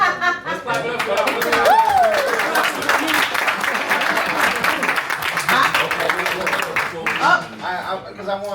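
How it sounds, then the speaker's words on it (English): Audience at a live Q&A at a Boston youth center claps and cheers, a lively burst of applause mixed with chuckles and talk from people nearby, thinning toward the end. "Let's clap it up for"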